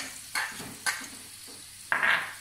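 Shallot and garlic sautéing in a pan: soft sizzle with a few separate bursts of stirring, each flaring up and fading, close by with no talking.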